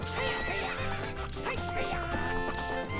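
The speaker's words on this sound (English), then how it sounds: "What's up with that horse? Is that Epona?" Epona, the horse in Zelda: Ocarina of Time, gives a neighing whinny over looping game music, the call rising and falling across a few seconds against a busy, continuous soundtrack.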